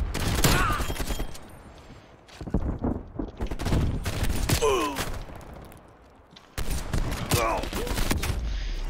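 Shotgun fire and other gunfire in the video game Call of Duty: Black Ops Cold War, with loud bursts of shots coming in clusters across the scene while someone talks over them.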